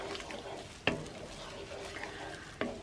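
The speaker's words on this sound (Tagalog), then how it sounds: "ilagay po natin itong langka o jackfruits. Okay, so dito, haluin natin" Jackfruit being stirred in a pan while making biko, a quiet soft sizzle with two sharp scraping knocks of a spoon against the pan, fairly faint, with no talking.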